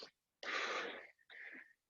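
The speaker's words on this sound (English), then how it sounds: "you hear that I'm breathing way more than last time" Heavy, breathy exhales come during a compound-movement workout: one short puff, then a long forceful rasping breath and a shorter wheezy one that trails off, each close to the mic and separated by silence.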